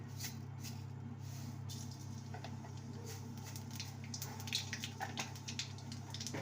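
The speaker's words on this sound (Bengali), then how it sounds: "এবারে ফোড়নে দেব হাফ স্পুন কালো জিরে" Black cumin seeds frying in hot oil as a tempering, a faint, steady crackle and light patter with scattered tiny pops over a low constant hum, no talk.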